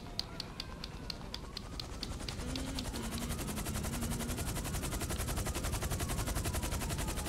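Rapid automatic gunfire from a mounted vehicle gun in Grand Theft Auto 5 Online, a fast steady stream of shots lasting the whole few seconds over a low engine drone.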